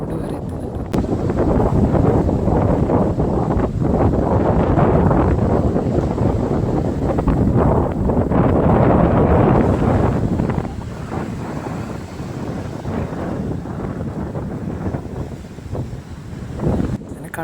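Strong wind buffets the microphone at a sea shore where waves climb up the beach, a loud continuous roar with surf underneath, easing somewhat toward the end.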